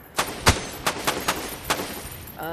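A series of sharp gunshots from a VR video game, six or seven distinct cracks fired at an irregular pace, loud and close, with no talk over them.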